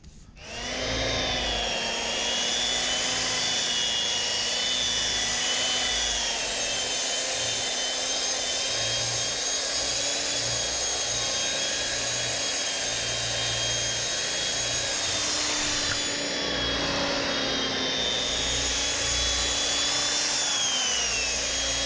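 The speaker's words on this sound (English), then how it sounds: "I'm going to keep buffing on this and see what happens" Power buffer polishing gel coat on an RV, a loud steady motor whine with a constant droning pitch running continuously throughout, slight shifts in tone as pressure changes, no talking.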